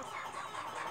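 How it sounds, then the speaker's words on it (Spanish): A criolla hen clucks softly at her nest of freshly laid eggs in a home yard, a brief, faint, continuous murmur with no talk. "esta gallina protege a sus huevitos"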